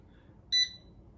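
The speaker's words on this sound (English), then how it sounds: "It's going to beep like that, and it's going to say processing on the screen." A Futaba MC9100A ESC programmer gives a single short, clean electronic beep, high-pitched and steady, lasting a fraction of a second against a quiet background.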